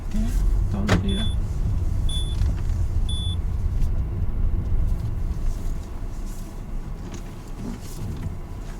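A Peugeot 607 V6 converted from automatic to manual transmission drives along with a steady low engine and road rumble, interrupted by a few short electronic beeps inside the cabin.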